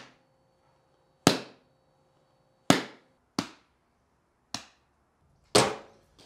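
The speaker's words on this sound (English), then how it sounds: "what we're gonna do is we're gonna just recreate that initial slap a bunch" Recreated slap sound effect for a pizza commercial, five sharp, close slaps spaced irregularly across near silence, each a crisp smack that decays quickly.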